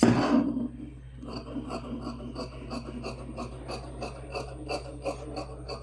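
Scissors cut a cross piece of lining fabric, giving a steady rhythmic series of crisp snipping and rasping strokes, close and fairly even across the whole stretch after a brief louder rustle at the start.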